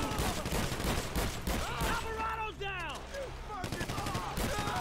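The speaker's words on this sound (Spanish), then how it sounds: "disparando con una escopeta como si fuera un fusil" Shotgun blasts fire in quick succession during a GTA V heist shootout, loud and dense, mixed with game effects and music, while players talk over it.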